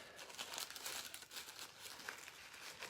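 Paper of a coffee filter heart decoration is folded and creased, giving a soft, steady crinkling and rustling that is faint and close with no voices.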